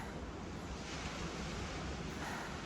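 Ocean waves wash onto the shore in salty seaside air, a constant broad roar of surf mixed with wind buffeting the microphone, steady and enveloping with no voices.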